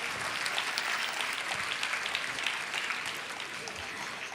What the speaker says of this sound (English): Everyone, please give them a good round of applause once again.